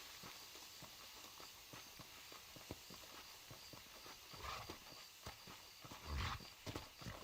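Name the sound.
horse hooves, from a video game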